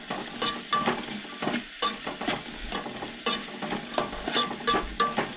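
Onion and chillies sauté in a pan for a Goan dry prawn curry, with repeated scraping stirs of a utensil in a rhythmic pattern over a soft underlying sizzle.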